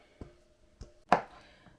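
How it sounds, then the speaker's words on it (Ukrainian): A knife chops oven-dried nuts on a board for a beet salad: three sharp, separate cuts, the last one the loudest, in a quiet kitchen. "Нарізаємо так, подрібнюємо їх"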